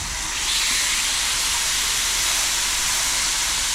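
Pork chops simmering in a pan on a campsite stove give a continuous bright sizzling hiss, loud and close, steady after a quick rise at the start, with no talking.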